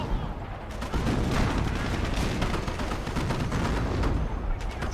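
Battlefield barrage in the strategy game Company of Heroes: continuous, dense rumbling artillery blasts and crackling gunfire overlap without pause, loud and steady throughout.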